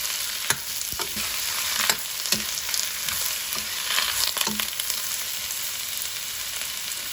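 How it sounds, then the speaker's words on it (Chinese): Chinese cabbage stir-fries over high heat for vinegar-sautéed cabbage, a bright continuous sizzle broken by repeated scraping strokes of a spatula in the wok. "转大火慢慢翻炒， 直至白菜变软，"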